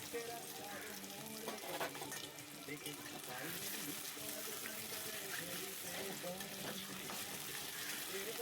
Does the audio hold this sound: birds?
no